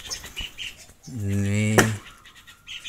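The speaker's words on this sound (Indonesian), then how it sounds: "lihat burung balam" A male spotted dove (burung balam) gives a single cooing call lasting about a second, close by, with someone speaking briefly before it and again afterward.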